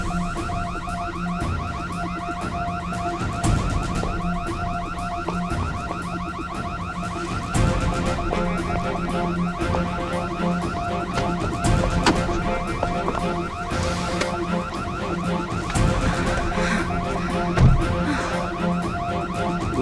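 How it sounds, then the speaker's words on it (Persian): A loud car-alarm-style siren wails continuously for about twenty seconds, cycling through rising and falling tones with occasional rattling bursts, close and alone without speech. "چه خبره؟ آژیر خطره؟"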